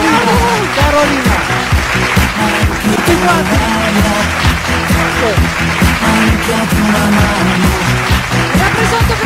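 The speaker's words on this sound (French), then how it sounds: "Un applaudissement très fort pour Carolina!" Audience applause for Carolina, winner of the Miss Italia in France pageant, rising steadily under loud music and an emcee's voice, sustained throughout the clip.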